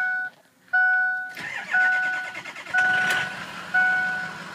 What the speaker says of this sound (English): I'm gonna fire it up, and we'll show you under the hood.